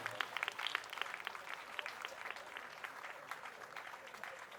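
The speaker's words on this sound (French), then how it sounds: "On applaudit pour les mariés." Wedding guests applaud the newlyweds with a steady, dense patter of many hands, faint and somewhat distant, sustained without pause and with no voices standing out.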